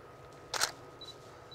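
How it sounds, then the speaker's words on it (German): A single quick camera shutter snaps once, a brief sharp click up close against quiet room tone. "ob ich ein paar Fotos von ihm schießen dürfe"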